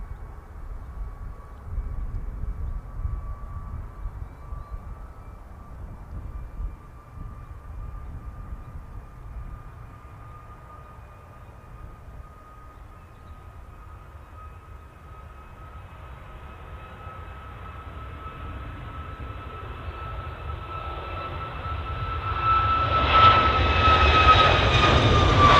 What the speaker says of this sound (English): Just starting its roll. This is the Ryanair Max.